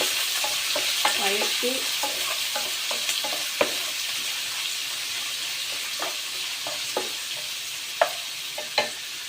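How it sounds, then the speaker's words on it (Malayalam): Onion, ginger and green chili sizzle steadily in a hot pan with a constant frying hiss. A spatula scrapes and taps now and then, close and clear, with no voices. "ഉള്ളി, ഇഞ്ചി, പച്ചമുളക് എല്ലാം കൂടെ നല്ലപോലെ വഴറ്റി"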